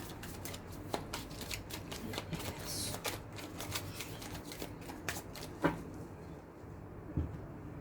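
A deck of tarot cards being shuffled and cut by hand, heard as soft, close riffling and flicking in quick irregular bursts at a low level.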